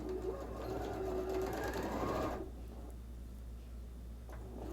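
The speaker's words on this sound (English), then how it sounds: "After I sew these together, I'll take it back to the machine" A sewing machine stitches quilt blocks with a close, steady mechanical whir for about two seconds, then stops and leaves a quiet room hum.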